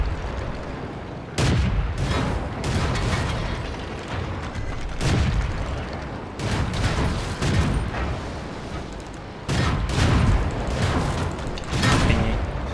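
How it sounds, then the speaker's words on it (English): Heavy booming gunfire and artillery blasts from a tank battle video game, British Tier 5 heavy A33 Excelsior tank, loud repeated bursts at irregular intervals over a rumbling mechanical background, no talking. "I can't stay still with all this artillery."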